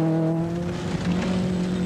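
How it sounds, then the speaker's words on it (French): A Fiat 131 Abarth rally car runs on a dirt test track at a research and testing centre, its engine a steady, loud droning hum with a brief dip in the middle and no talking. "c'est un régal d'y piloter la 131 Abarth admirablement au point"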